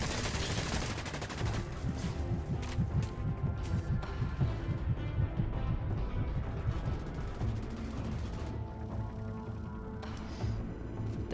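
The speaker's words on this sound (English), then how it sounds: "The assault submachine gun boasts a longer range and a bigger clip in exchange for slightly less" Rapid automatic bursts from an assault submachine gun in the shooter game Dust 514, dense and continuous over mixed battlefield noise, loud and close throughout.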